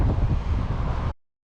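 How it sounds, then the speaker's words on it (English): Heavy wind buffets the microphone with a low, rumbling roar for about a second, then cuts off abruptly into silence. "This is going to be tough in the wind"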